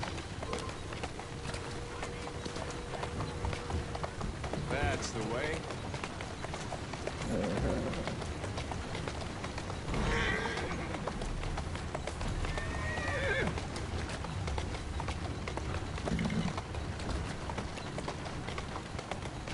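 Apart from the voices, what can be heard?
horse hooves and neighing in Assassin's Creed Syndicate video game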